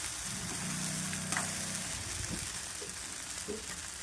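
Lemon juice is stirred into rice in a hot pan, with a steady sizzle and frying hiss filling the clip and light scraping stir sounds on top, all close and without talk.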